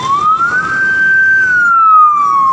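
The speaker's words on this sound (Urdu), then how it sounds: "اور ایمبولینس نے اپنی خدمات کو سر انجام دیتے ہوئے وہ بھی آ کے رکی ہے" An emergency siren on a Karachi street near the Nasla Tower, a loud, close tone sweeping up, holding and then sliding down, over a soft bed of traffic noise.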